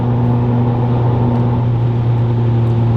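Honda Civic FN2 Type R with a swapped K24 engine cruising on a motorway, a steady loud droning hum with constant low tones heard from inside the cabin, no talk.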